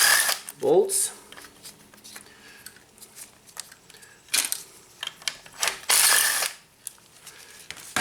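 A ratchet clicks and turns as bolts are removed from the transmission range sensor on a Nissan CVT, with bursts of ratcheting and metallic tool handling, close and fairly loud, with a brief voice early on.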